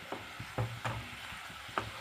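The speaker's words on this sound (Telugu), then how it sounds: "షుగర్ మొత్తం కరిగిపోవాలి. అలాగే కలుపుతూ ఉండండి." Sugar syrup for malai khaja stirred in a pan, with a few soft scraping strokes and light knocks of the spoon against the pan at an uneven pace, faint and close.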